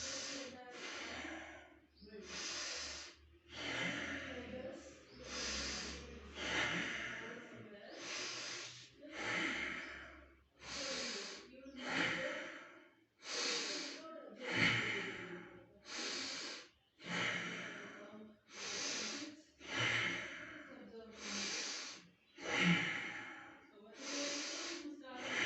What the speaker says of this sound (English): As soon as I lie down in prone posture, it's currently 93 and start deep breathing.